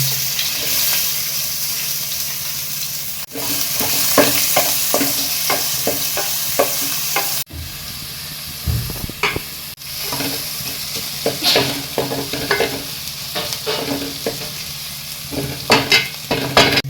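Onion and green chili, with curry leaves, crackle loudly in a hot pan for beetroot bhaji while a spoon scrapes and stirs in repeated strokes, broken by a couple of abrupt cuts.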